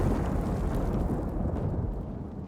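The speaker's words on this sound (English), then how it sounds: "So does the explosion effect change when they get the big demos, the paratroopers?" A big explosion in the Company of Heroes 3 strategy game rolls out as a dense, heavy low rumble that stays loud for a couple of seconds before slowly easing off, with no talking over it.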